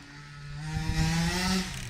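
A rebuilt, ported Rovan Baja 45cc engine runs close by with a buzzing, chainsaw-like drone that rises briefly in pitch and loudness, then settles back.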